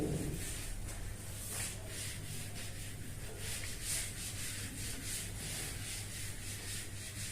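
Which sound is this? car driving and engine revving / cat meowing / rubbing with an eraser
rubbing with an eraser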